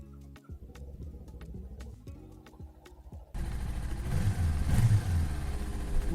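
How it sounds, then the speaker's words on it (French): A Kawasaki Eliminator 500 motorcycle with its stock exhaust starts up after a few faint clicks and settles into a steady, fairly loud idle rumble close by. "On va écouter le bruit du moteur."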